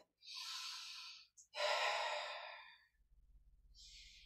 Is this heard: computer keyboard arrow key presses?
no